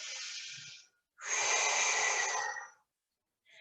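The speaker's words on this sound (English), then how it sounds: "Good, breathe in." Two long, audible breaths through the nose during an intermediate Pilates exercise, close and clear. A breathy hiss lasts about a second, then a stronger inhale runs a little over a second, with silence between and no talking.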